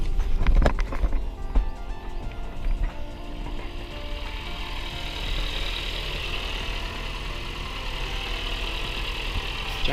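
A Renault Twingo engine cranks and catches with a loud burst at the start, then settles into a steady, even idle that carries on alone for the rest of the stretch.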